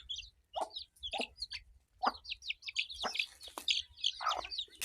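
Several chickens cluck and chirp close by in short, overlapping bursts while eating wheat grains, with soft pecking and scratching underneath.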